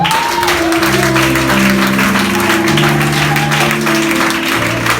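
Church congregation applauding and acclaiming, loud continuous clapping mixed with cheering voices and sustained musical tones underneath.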